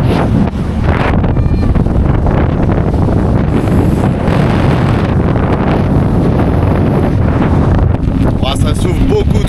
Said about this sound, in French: Ah bah là, il y a du vent là.